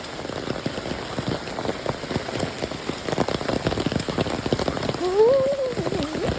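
Heavy monsoon rain in rural Konkan, Maharashtra, patters densely and steadily on surfaces nearby, a constant close drumming, with a brief voice-like tonal sound late on.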